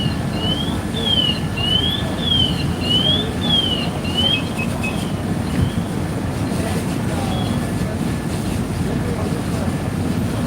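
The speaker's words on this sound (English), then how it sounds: "We're getting some water splashing as well." Water spraying and splashing at a four-alarm building fire in the Bronx, New York City, on a wet winter night: a steady, loud rushing wash throughout, with a faint warbling tone early on.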